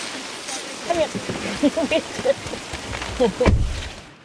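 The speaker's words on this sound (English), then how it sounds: "The downpour came back as soon as we went outside." Heavy downpour outdoors, a steady wash of rain running under a voice talking throughout.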